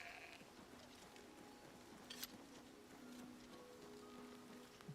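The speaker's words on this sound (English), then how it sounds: "Oh nope, this is the last of the sheep." A sheep bleats in the video game Oblivion Remastered, with drawn-out wavering calls against a steady hiss like rain, fairly faint and without speech.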